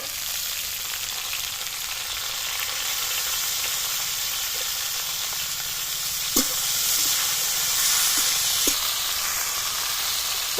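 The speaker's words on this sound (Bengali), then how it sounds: "টমেটো কুচিটাও দিয়ে দিচ্ছি। সজনে ডাঁটাটা তুলে দিচ্ছি।" Moringa drumsticks and chopped tomato sizzle loudly and steadily in hot oil in a pan, with a few light stirring clicks breaking through the continuous frying hiss.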